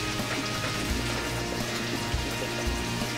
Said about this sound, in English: I've been boiling them, pour them in the strainer